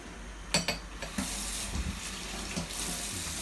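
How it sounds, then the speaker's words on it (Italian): Water is poured into a pot of cooking rigatoni pasta, a close splashing gush with a soft sizzle underneath and brief splashes near the start. "Andiamo ad aggiungere l'acqua"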